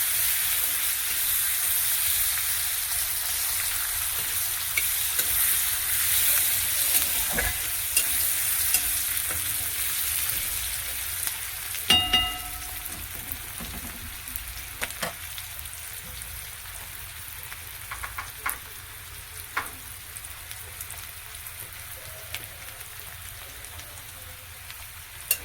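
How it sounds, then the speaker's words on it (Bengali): Onions fry in a pan for a fish head dal with a constant crackling sizzle lasting throughout, dotted with scattered spatula taps and stirring knocks; nobody speaks. "পেঁয়াজটাও ভাজা ভাজা হয়ে গেছে।"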